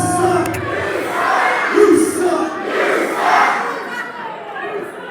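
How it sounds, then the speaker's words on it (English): A wrestling arena crowd roars and jeers at a wrestler in sustained waves of shouting and cheering, loud and close, with rising and falling swells throughout. "The crowd letting Chris Hicks know."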